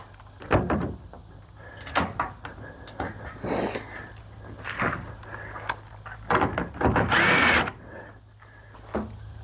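A power tool whirs in short bursts while setting a rivet nut into a pickup truck bed during DIY fabrication of a kayak rack for a tonneau cover, with clanks and handling noises between several loud, close bursts.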